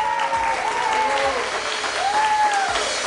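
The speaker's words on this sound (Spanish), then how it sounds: "Por favor, aplausos." Applause from a television studio audience during a Spanish-language variety show, heard under a tonal wavering sound that runs across the clapping.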